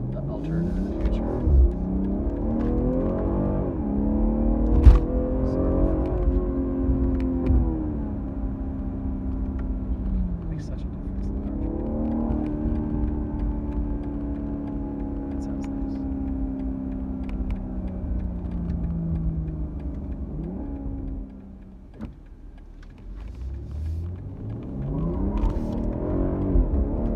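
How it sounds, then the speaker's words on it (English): A BMW M340i's inline six engine drones steadily through a long drive, its pitch rising and falling with throttle changes, while a person talks over much of it. "just hearing the inline six sound just adds so much"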